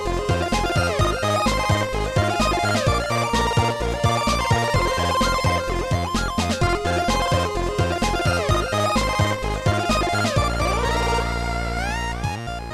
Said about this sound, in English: Keygen music is based in 80s and 90s hacker culture